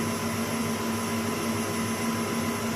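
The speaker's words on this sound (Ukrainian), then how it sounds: "Воно собі міксер собі ловить і збиває." Electric mixer at maximum speed whipping a pumpkin-apple marshmallow mixture, giving a steady, loud motor whine with a constant pitch and no pauses, heard alone.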